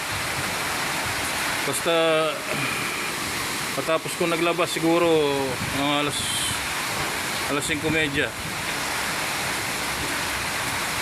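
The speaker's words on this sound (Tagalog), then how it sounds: "Tingnan nyo kung gaano kalakas ang hangin" Strong wind and heavy rain make a steady, loud broadband roar that runs through the whole stretch, with someone talking over it at intervals.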